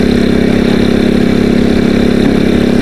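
Two motorcycles idle steadily nearby on a cold, darkening village road in Montong, a continuous low, even engine rumble with no talking.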